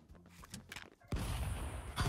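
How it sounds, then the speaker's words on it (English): A shotgun in the Stick Fight game fires a single loud, close blast about midway, followed by a roaring tail and a second burst, with muffled game noise before it. "There is a recoil on the shotgun"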